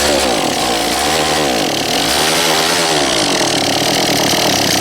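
A Poulan Pro 42cc 4218 AVX chainsaw with low compression runs loud and close, its two-stroke engine droning continuously with rising and falling revs, no speech.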